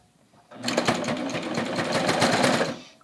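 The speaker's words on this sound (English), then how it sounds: "I'm going to take this pin out immediately, and I'm just going to start serging." A serger sewing machine finishing a garment neckline runs in one continuous burst of rapid, close mechanical stitching for about two and a half seconds after a quiet start.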